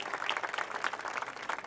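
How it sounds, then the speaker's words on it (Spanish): Applause from an audience at a lamb festival celebration, a steady, moderately distant wash of clapping lasting under two seconds with no clear talk over it. "Fuerte el aplauso."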